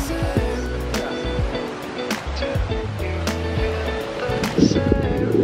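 Surf washes onto a Singapore beach in a steady, moderately loud rush that swells and recedes, with a brief louder splash near the end and no clear speech over it.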